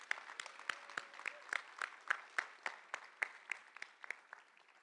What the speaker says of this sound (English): Round of applause for our inductees.